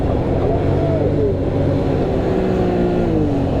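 Can-Am Maverick X3 XRS Turbo side-by-side with Fox semi-active suspension, its engine droning loud and close with rising and falling pitch as it revs on a snowy ATV trail.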